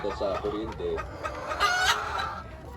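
Hens waiting for their eggs to be collected make close, busy clucking and squawking with overlapping calls, and one rises into a louder drawn-out cry partway through.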